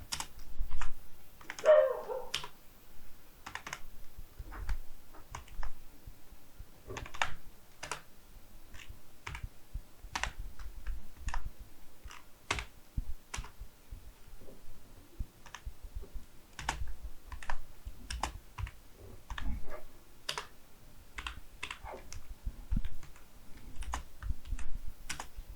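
SQL code is typed on a computer keyboard in irregular bursts of close, crisp key clicks that run steadily for a long stretch, with a brief dog bark early on and no talking.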